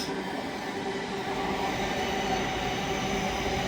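A Class 801 train speeding out of York station, a steady, dense roar of wheels and rail noise, close and sustained throughout with no gaps or voices.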